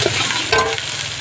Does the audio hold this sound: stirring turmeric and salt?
yes